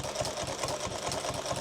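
Sewing machine running at a fast, steady pace while stitching a duffle bag, an even mechanical chatter heard close up with no talking.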